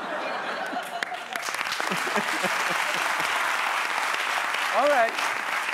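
A studio audience applauds on a late-night talk show, a dense wash of clapping that builds and holds steady, with someone speaking over it.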